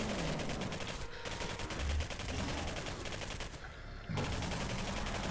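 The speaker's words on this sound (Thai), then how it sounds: "ยิงไปกระสุนไปหมด" Gunfire in the first-person shooter Singularity, dense rapid shots rattling almost nonstop, loud and close, with brief gaps where the shooting pauses before resuming.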